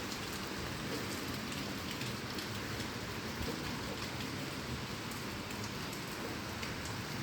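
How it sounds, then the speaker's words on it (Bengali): Heavy rain pours steadily in Sylhet, a dense, continuous hiss of drops striking surfaces that stays loud and even throughout, with no voices. "আসলে বৃষ্টি দেখাইতে হইলে আপনারা লাইট ছাড়া বৃষ্টি দেখানো সম্ভব নয়"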